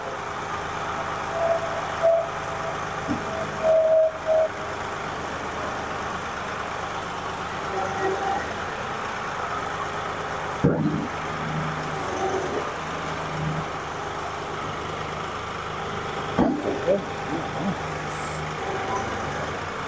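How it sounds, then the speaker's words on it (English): A tractor engine idles with a steady low rumble as its hydraulics lift the front loader away, with occasional clanks and creaks of the loader arms breaking through the drone. "Slowly use your hydraulics to lift the loader away from the tractor."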